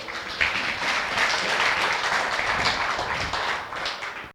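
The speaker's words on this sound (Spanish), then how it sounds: "¿Cuántos damos un fuerte aplauso al Señor?" A church congregation gives loud applause to the Lord during a sermon, a sustained, dense roar of many hands clapping that fades out at the end.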